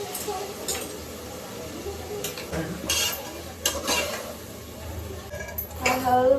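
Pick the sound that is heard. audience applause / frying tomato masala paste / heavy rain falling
frying tomato masala paste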